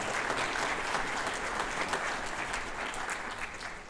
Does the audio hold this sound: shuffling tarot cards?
no